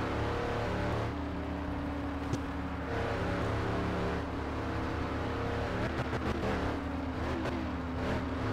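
A car approaching head-on in the My Summer Car video game, its engine droning steadily under the player's own car's engine hum, with a rising pass and a few clattering bumps near the end, moderately loud.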